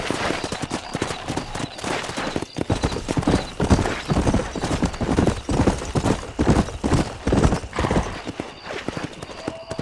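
A horse gallops at a fast, steady rhythm of hoofbeats in the Western video game Red Dead Redemption, its close clip-clop running continuously through the whole stretch with a brief whinny-like layer.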